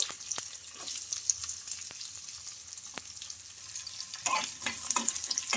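Lentils, garlic cloves in their skins, chopped ginger and onion fry and sizzle in a pan, a steady hiss with scattered spatula scrapes and stirring clicks that grow louder near the end.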